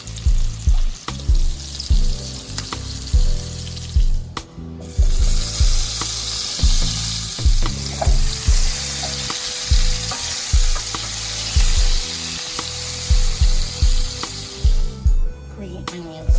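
Shrimp fry loudly in a hot pan for egg noodles, a dense sizzle broken by rhythmic stirring and scraping strokes, close and prominent from start to end.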